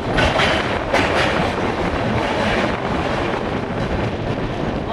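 LHB Garib Rath Express running nonstop through Bardhaman Junction, heard from inside the coach as a steady loud rumble with rail clatter and wind rush throughout, no voices.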